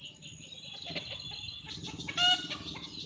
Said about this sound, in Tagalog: ating mga manok, oh.